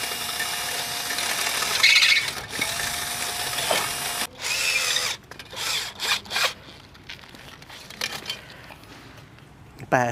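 A power drill whirs in short bursts and stops while screws are driven on a motorcycle top box, close and fairly loud, with scraping and handling noises between runs and people talking in the background.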